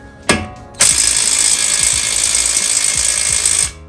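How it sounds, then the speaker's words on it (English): An impact wrench on a 19 mm bolt of a Subaru: a short blip, then a loud sustained rattling hammer lasting about three seconds before it cuts off. "Let's see if my impact can break this loose."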